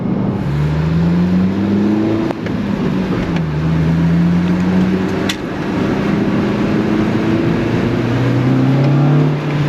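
An 8th-generation Honda Civic Si fitted with a K&N drop-in air filter revs repeatedly into VTEC, its engine note climbing in several rising sweeps with brief dips between them, loud and close.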